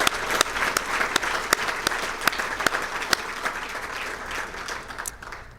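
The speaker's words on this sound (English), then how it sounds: "So let's give him a warm round of applause." Audience applause at a fire department awards banquet, a steady wash of many hands clapping with a few sharp individual claps standing out, fading slightly toward the end.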